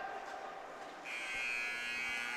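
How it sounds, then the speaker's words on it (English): A buzzer sounds at the end of a high school varsity hockey game, a steady electronic tone that starts partway through and holds, heard at a distance in an arena. "Buzzer sounds"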